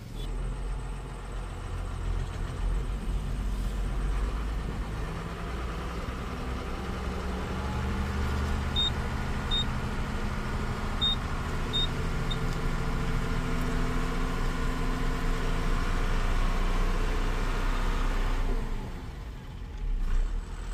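A truck engine rumbles steadily at low pitch as the driver pulls the vehicle forward, with gentle rises in revs and a continuous road-side background, no talking.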